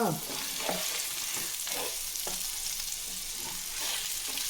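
Raw banana curry frying in a pan as turmeric is stirred through it: a steady close sizzle with repeated scraping stirs at an irregular pace, and no voices.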